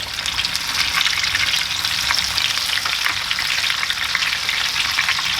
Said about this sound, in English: Just be very careful when you're frying this off, because obviously this oil is very, very hot.